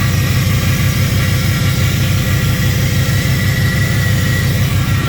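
A 1984 box van engine idles steadily while fed from a gas can, a continuous low rumble with a constant droning hum, close and loud throughout with no pauses.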